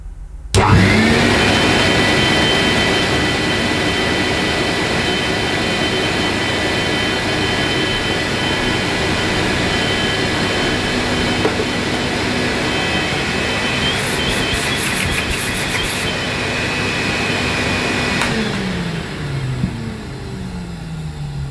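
A vintage Hoover 417 cylinder vacuum cleaner switches on with a rising whine and runs loud and steady for a long stretch, then winds down as the motor slows; its suction is poor.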